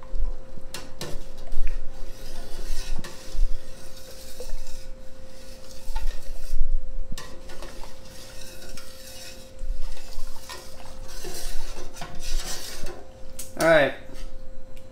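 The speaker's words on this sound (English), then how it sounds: "I'm gonna stir it here with the egg in there, the cream." Potato leek soup with egg and cream is stirred in a pot, with a spoon scraping and sloshing in an uneven rhythm and a sharp clink near the end, while a person talks over it.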